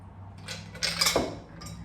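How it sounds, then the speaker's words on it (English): A mixed cocktail strained from a shaker over fresh ice into a glass, a short clatter and trickle of liquid hitting cubes, soft and close, lasting under a second. "I'm just gonna go ahead and strain it over this fresh ice"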